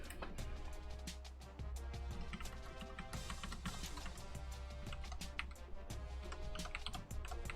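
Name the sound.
computer keyboard typing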